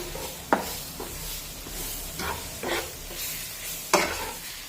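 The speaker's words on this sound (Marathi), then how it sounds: "दोन ते तीन मिनिटे हे मटार यामध्ये व्यवस्थित परतून घेऊया" Green peas for a mater kachori filling being sautéed in a pan, giving a soft continuous sizzle with a few sharp stirring scrapes, close and alone with no talk.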